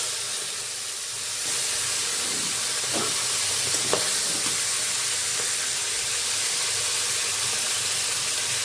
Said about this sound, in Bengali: এখন আমি মাছের মাথাটা ভেজে নেব